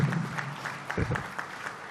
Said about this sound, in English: You should clap for yourself now.